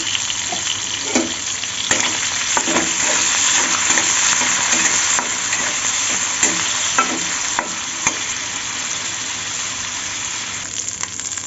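Shrimp sizzle in hot oil in a pan with salt added for a shrimp mash, a loud, continuous close-up frying hiss with occasional stirring and scraping and no talk.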